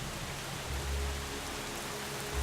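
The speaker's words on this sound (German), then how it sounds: "Ist das der Grund, warum es regnet?" Steady video-game rain hissing as a broad, even wash of noise with a low rumble underneath, continuous and moderately quiet, no voices.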